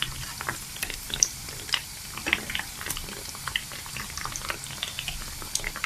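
Beignet dough fries in hot oil in a pan, a dense close sizzle with scattered sharp pops and crackles running throughout, with no voices.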